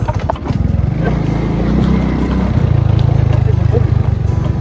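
A motorcycle engine runs steadily at a low, rumbling idle nearby, with a continuous throbbing pulse and some background noise throughout.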